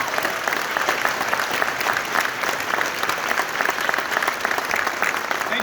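A crowd at a convention closing ceremony gives a sustained round of applause, dense and even throughout, with no talking over it.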